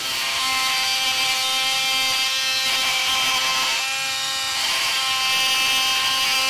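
A Dremel Velocity 7.0 amp corded oscillating tool cuts through a round 5/8-inch wooden dowel, making a loud, continuous buzzing vibration with a steady, harmonic-rich drone close to the listener.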